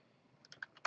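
A few scattered keystrokes tap on a computer keyboard while a file path is entered for laser cutting software, soft and close, the clicks growing slightly louder toward the end.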